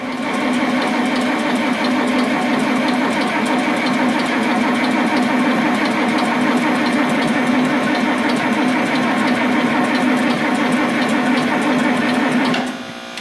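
A John Deere 4010 tractor engine runs nearby with a steady, loud mechanical clatter that holds for about twelve seconds, then cuts off at the end.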